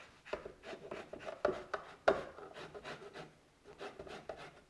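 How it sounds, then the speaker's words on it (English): Lemon zest rasped over a bowl of almond ricotta seasoned with salt and onion powder, a series of short dry scraping strokes in uneven bursts, close and fairly quiet. "Then I'm going to zest a little bit of lemon zest in here."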